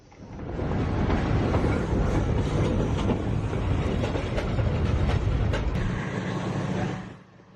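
A tourist train crossing the Fontana Lake Trestle, a loud, close, steady rumble of rolling wheels and rattling cars with rhythmic clacking that holds for several seconds before fading out; no speech.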